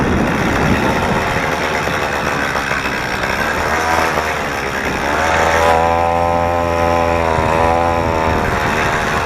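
A motorized BMX bicycle's small engine running with a new exhaust, a loud buzzing two-stroke-like drone close by that shifts pitch as the revs change midway.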